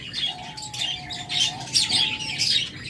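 A pair of sun conure parrots give short, sharp chirps and squawks in repeated bursts at close range, with no voices heard.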